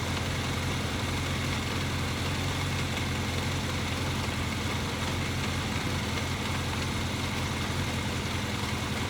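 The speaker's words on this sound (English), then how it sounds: "You can hear the motor go down" A 1983 Kawasaki KZ750 Spectre engine idles steadily during carburetor tuning, a close, continuous, even mechanical drone with no talk.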